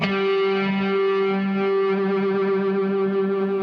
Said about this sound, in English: It also does a flange kind of sound